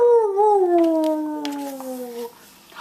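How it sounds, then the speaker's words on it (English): A dog howls loudly in long, wavering, sustained tones that rise and fall over a few seconds, with no talking over it. "He howled instead,"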